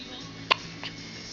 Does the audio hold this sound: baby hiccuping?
yes